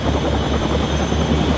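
Helicopter rotor drone from the video game Still Wakes the Deep, a loud, steady whirring thrum that holds without a break, with no speech over it.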